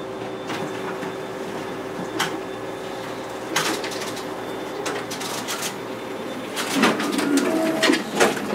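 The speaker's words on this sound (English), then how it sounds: "There we have our document feeder working." A Xerox WorkCentre 7855 copier's document feeder running, with a steady mechanical hum and scattered clicks and ticks of paper moving. The feeding noise builds toward the end.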